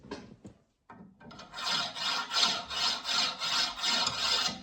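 Steady raspy scraping as linear bearings on a 3D printer slide back and forth along a metal rod, close and fairly loud, in a regular repeating rhythm after a few clicks.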